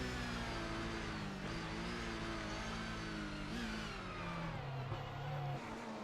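A rallycross car's engine revs hard during a race at Knockhill, the throttle rising and falling in continuous loud surges of engine note with brief gear-change dips, close and steady throughout.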